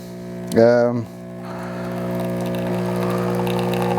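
A Jura J8 Twin coffee machine grinds beans with a loud steady mechanical hum and whir close by, preceded by a short sharp rising tone near the start.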